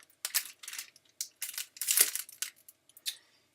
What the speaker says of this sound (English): This part comes in its own little, like, paper wrapper